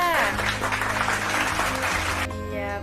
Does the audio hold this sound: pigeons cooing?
no